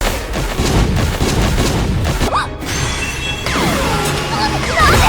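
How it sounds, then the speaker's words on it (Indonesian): Loud crashing blasts and booming impacts from a monster's energy explosions fill the clip, with whooshing swells and a brief drop-out midway before the rumbling resumes. "monster itu kembali melepaskan ledakan energi yang hampir saja menghantam Aneli"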